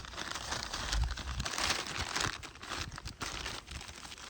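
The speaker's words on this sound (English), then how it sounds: "Put that back in the plastic bag so it's ready to go." Plastic bag crinkling up close, a busy rustling that goes on for a few seconds with no talking.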